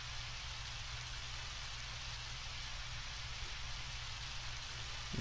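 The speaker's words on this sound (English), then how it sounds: "I think it's raining." Steady rain ambience in the Undertale video game, a continuous even hiss of falling rain with a low hum beneath, constant and uninterrupted with no talking.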